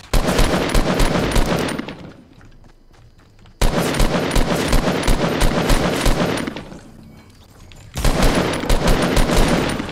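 Bursts of rapid automatic gunfire in the Fortnite video game, two long loud volleys separated by a quieter gap of scattered distant shots, then a third volley starting near the end.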